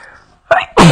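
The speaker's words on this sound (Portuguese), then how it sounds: "Se eu der o quarto espirro." A sharp sneeze bursts out, followed closely by a second, louder one, both close and loud after a quiet, faintly murmuring stretch.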